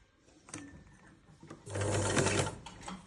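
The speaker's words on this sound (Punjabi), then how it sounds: "ਹੁਣ ਆਪਾਂ ਦੇਖੋ ਇਹ ਤੇ ਸਲਾਈ ਲਗਾ ਲੈਣੀ ਆ" An electric sewing machine stitches a shirt sleeve in short bursts, a brief run near the start, then a louder sustained whirring run in the second half, close and clear.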